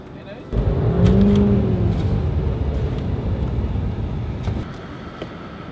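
All-wheel-drive truck towing a snow sled, its engine revving hard as the wheels overspin, a loud sustained roar close by with people talking over it.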